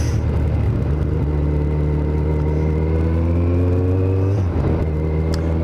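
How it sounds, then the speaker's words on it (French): Steady in-car engine drone of a small car cruising on the road, low rumble with harmonic hum rising slightly as it accelerates, continuous and close. "je suis en train de rouler sur la route"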